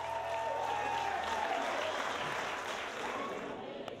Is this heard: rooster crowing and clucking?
no